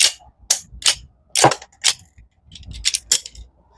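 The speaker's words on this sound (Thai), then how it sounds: "มันจะเป็นระบบชักยิงทีละนัดทั้งหมดเลย อยากจะให้ดูว่าระบบเป็นยังไง ชักยิงทีละนัดแบบนี้" An old metal model cap gun with a single-shot slide action is cocked and fired repeatedly, giving about eight sharp, close metallic clicks and snaps in an uneven rhythm with short gaps between them.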